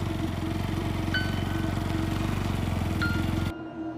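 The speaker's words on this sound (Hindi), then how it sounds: "अपनी बाइक स्टार्ट करके घर के लिए निकल जाता है बिना रुके।" A motorbike engine runs steadily with a loud, close low rumble and two brief chime-like tones over it, then cuts off abruptly near the end, leaving quieter background noise.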